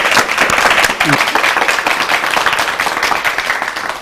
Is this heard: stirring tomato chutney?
no